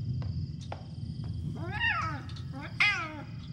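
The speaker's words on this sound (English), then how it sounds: "Why is something still killing the cat?" A cat meows twice in the horror game Pamali: Kuntilanak, long wavering cries in a dark house over a low rumbling ambient drone with faint ticking clicks.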